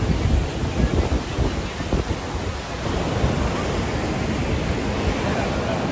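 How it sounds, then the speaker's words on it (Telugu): The Ganga rushes near a bridge close to its source, a loud, steady roar of flowing water mixed with heavy wind buffeting the microphone, continuous throughout with no voices. "గంగా నది స్టార్టింగ్ ప్లేస్ ఇక్కడ నుంచి వాటర్ ఎలా పోతున్నాయి"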